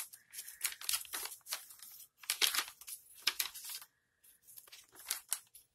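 Old ledger paper pages handled and turned: crisp rustles and crinkles in bursts with short pauses, close and fairly quiet.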